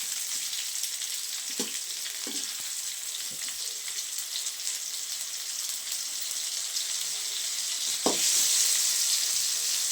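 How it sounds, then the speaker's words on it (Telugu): Curry leaves and other chutney ingredients fry with a steady, even sizzle in a pan, punctuated by a few soft knocks and stirring scrapes; no one speaks. "సో ఇవన్నీ వేయించుకునేద్దాం ఫస్ట్"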